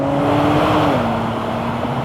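A Kia Stinger's twin-turbo V6 roars loudly and steadily, its pitch dipping slightly partway through a sustained, close engine note with no talking.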